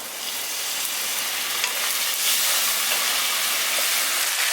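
Prawns frying in masala in a pan for a village-style prawn biryani, with a little water added and stirred in; a loud, steady hiss and crackle with a few scraping stirs, no talking.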